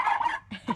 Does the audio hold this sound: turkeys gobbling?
yes